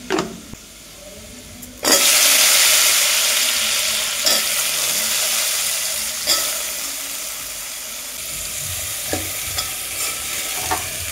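Mixed vegetables dropped into a hot pan with oil, for a Maharashtrian offering of nine kinds of vegetables, hitting with a loud sudden sizzle that holds steady and slowly fades, with a few stirring scrapes and knocks of a spoon.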